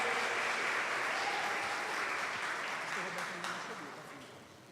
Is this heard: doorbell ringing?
no